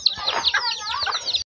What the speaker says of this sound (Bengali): ওইটা ডিম পারবো কর কর কর কর করছে ওইটা। এইটা আমার মার মুরগি।